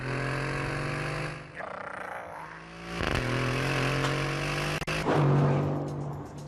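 Aston Martin Vantage engine in a video game revving hard and holding a loud, steady tone with rising and falling pitch, close and continuous, with no talk over it.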